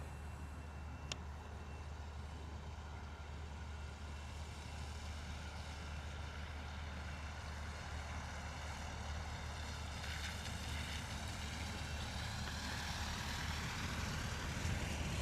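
A jet airliner's takeoff roll down runway 07 at misty London Luton Airport, a steady broad engine roar heard from a distance that slowly swells in strength over about fifteen seconds.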